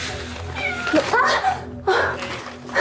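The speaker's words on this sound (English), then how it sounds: "I didn't know they had a cat." Cat meows and caterwauls from the 1992 horror film Ghostwatch, several drawn-out wavering cries over a noisy film soundtrack with some voices in the background.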